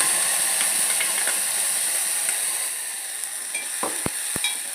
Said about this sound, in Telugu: ప్యూరీ వేసి ఒక 1 మినిట్ దీన్ని కూడా కొంచెం ఫ్రై అవ్వాలి.